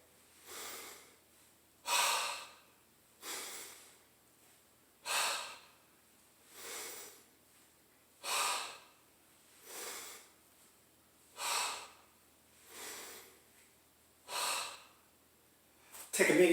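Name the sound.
deep rhythmic breathing, inhaling and exhaling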